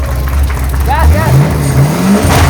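A drift car engine revving hard, a loud rising and falling roar close by, with a voice speaking briefly over it.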